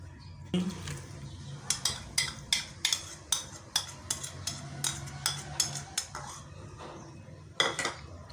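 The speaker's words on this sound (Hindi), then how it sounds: "तो इन सारी चीज़ों को मिक्स करते हैं" Beef tikka ingredients being mixed in a bowl: a steady run of sharp utensil clicks and scrapes against the dish, mostly regular with a pause near the end, close to the microphone with no talking.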